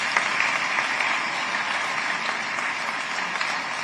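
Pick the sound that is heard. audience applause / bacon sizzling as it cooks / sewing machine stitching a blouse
audience applause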